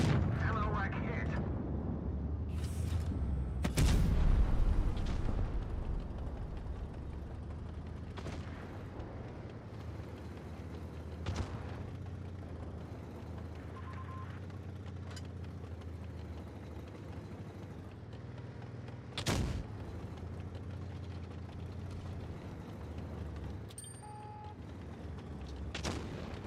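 A tank is hit and destroyed in the mobile game World of Tanks Blitz, heard as sharp cannon-like booms and impact thuds over a steady engine rumble, with several bursts spread through the stretch and a loud opening blast.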